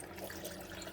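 Chilled cold water pours steadily into a blender jar with fruit and nut powder for juice, a continuous close splashing trickle running for about a second with no voices.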